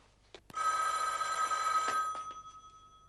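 A telephone bell rings with a bright, sustained metallic trill that lasts over a second and a half, then fades out. A few soft knocks and clicks come just before and during the ring in a quiet room.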